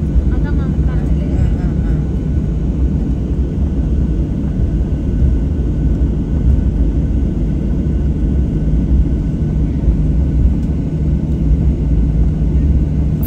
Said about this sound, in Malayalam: ഫ്ലൈ ചെയ്യാൻ പോകുന്നതിൻ്റെ ഒരു കുലുക്കൊക്കെയാണ് കേൾക്കുന്നത്.